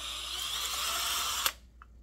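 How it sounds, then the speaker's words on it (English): A drill bores out the fuel line hole in a Poulan chainsaw housing, a steady high whine that runs close and fairly loud for about a second and a half before cutting off abruptly. "go straight down through there and drill it out"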